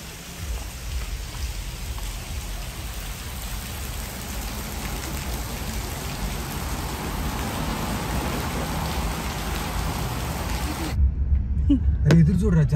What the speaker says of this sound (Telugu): అరే ఎదురు చూడరా, జలపాతం.